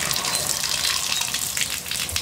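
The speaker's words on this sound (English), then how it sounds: "rinse off the whole hat." Water gushes steadily and loudly from a tap, splashing continuously over a hat being rinsed close by.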